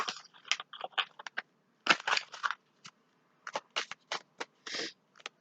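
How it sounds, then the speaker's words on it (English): Angel oracle cards being shuffled by hand, producing short bursts of crisp riffling and papery scraping separated by brief pauses, quiet and close. "Shuffle these."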